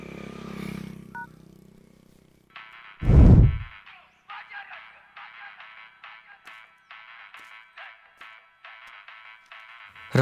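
A mobile phone left behind rings with a repeating electronic ringtone in steady short bursts, preceded by a single loud thump and a brief muffled sound.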